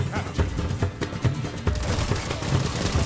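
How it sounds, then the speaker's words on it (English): An overpowered auto rifle firing in Destiny 2: dense, loud, continuous bursts of rapid gunfire with booming impacts, filling the whole stretch without pause. "Let us use this overpowered auto rifle, yes."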